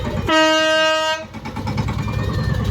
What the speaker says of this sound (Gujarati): મિની ટ્રેન ટ્રેક્ટરમાં ફિટ કરેલી હો.